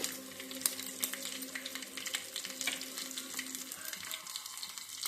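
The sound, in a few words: garlic and onion frying in oil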